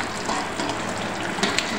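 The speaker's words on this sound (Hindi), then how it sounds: "मुझे थोड़ा पानी कम और लगा था तो मैंने हल्का सा और डाल दिया" Water poured into a pan of sugar to make syrup for katli, a steady close splashing gush that runs the whole time with small surges, no talking over it.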